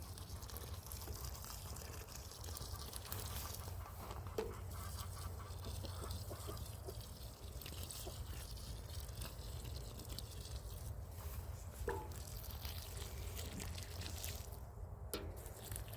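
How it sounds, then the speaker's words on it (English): Freshly planted garlic seedlings in a backyard garden are watered in, producing a steady, faint hiss of running water that continues throughout with no talk. "You always water your seedlings in."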